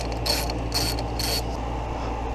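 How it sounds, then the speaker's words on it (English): A regular short hand ratchet tightening the bolt on a rag joint steering coupler of a 1977 Ford Thunderbird, giving three brief bursts of ratcheting clicks over a steady low hum. "I just have a regular old short ratchet. Just gonna go a little bit tighter than snug."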